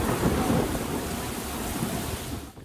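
A violent overnight thunderstorm in France, with heavy rain hissing steadily under rolling thunder rumbles that stay fairly loud before fading at the end, and no voices.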